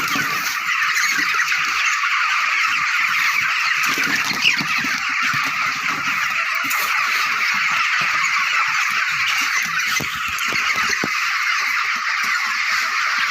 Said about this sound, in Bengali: তো খাবারটা তোলার সাথে সাথে দেখে না বন্ধুরা মুরগি কেমন ছুটে চলে আসছে